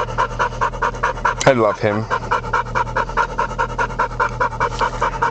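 A dog pants rapidly and steadily in a moving car, close to the listener and continuous throughout. A person speaks briefly in the middle over the panting.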